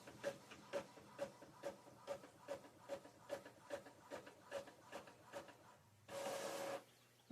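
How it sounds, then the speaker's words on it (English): A printer runs with about a dozen regular mechanical pulses, ending in a longer whirring feed, quiet and close with no talk. "Hear my printer going? See, it's printing."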